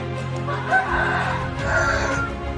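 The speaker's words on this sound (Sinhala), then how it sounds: "කුකුල්ලු" Chickens cluck and a rooster crows nearby in a farmyard, a dense, loud mix of fowl calls with a steady low background hum.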